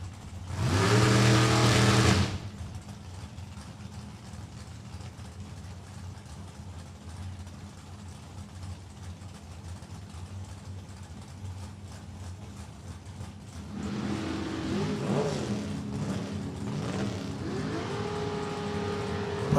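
A Top Alcohol Dragster at an NHRA drag race at Thunder Valley Motorsports Park blasts loudly for about two seconds, then fades to a low rumble before another engine rises again in the distance.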